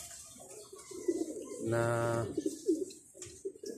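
Pigeons cooing at a loft, a soft murmuring coo rising in the middle amid faint chirps, fairly quiet and close, with a brief word spoken.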